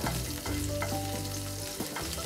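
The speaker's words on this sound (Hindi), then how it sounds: "उसमें मैंने एक चम्मच तेल डाला है, एक हरी मिर्च ली है, उसको अब इसमें डाल देंगे" Green chili and whole cumin seeds frying in a spoonful of oil in a pan, giving a steady, close sizzle with a few stirring scrapes and clinks throughout.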